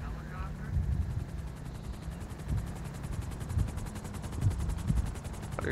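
Helicopter in the video game GTA Online, a steady rapid rotor chop throughout, with low rumbling bursts and voices talking over it.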